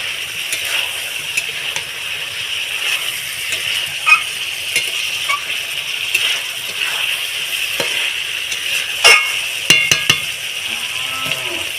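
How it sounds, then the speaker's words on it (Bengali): Chicken tossed with turmeric powder sautés in a pan for a Bengali chicken curry, giving a steady close hiss with scattered light clicks and stirring scrapes, and no talking. "তারপরে আমি হলুদ গুঁড়ো দিলাম দিয়ে চিকেনটাকে আমি আর একটু ভালোভাবে কষিয়ে নেব"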